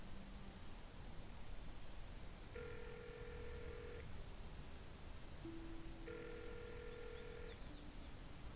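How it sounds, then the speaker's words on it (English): Telephone keypad tones sound in the video game Broken Sword 5 as a number is dialed, a few clear, evenly spaced beeps of differing pitch over a faint, steady background hiss. "Hang on, I'll phone him now."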